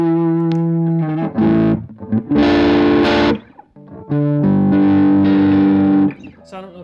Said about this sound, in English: it sounds all right when you've got some distortion on it and, you know, rocking out